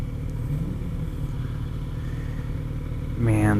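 A 2018 Kawasaki Z900RS with an aftermarket exhaust rumbles steadily while riding, its low engine drone running throughout before a louder swell of revving near the end.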